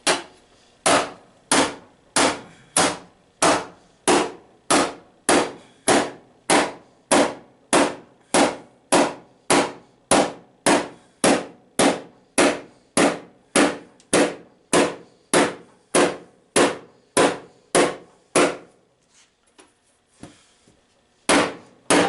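A hammer strikes sheet metal in a steady, even rhythm ahead of planishing on an English wheel, about thirty close, sharp metallic blows that stop near the end and then resume once.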